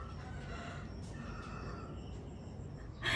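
Rooster crowing outside a house in the early morning, a faint distant call over steady background hiss, with a louder noise at the end.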